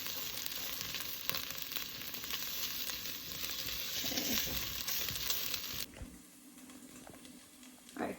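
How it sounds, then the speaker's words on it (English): Tomato paste sizzling and frying in a pan during lasagna meat sauce cooking, a dense steady hiss close by that drops away abruptly near the end, leaving quieter kitchen sounds. "So we are just kind of cooking our tomato paste."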